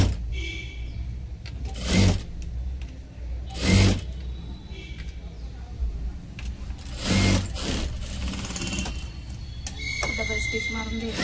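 A sewing machine stitches the cross strip of a four-tuck blouse with a double stitch. Short rattling bursts of stitching come close and loud, separated by quieter pauses.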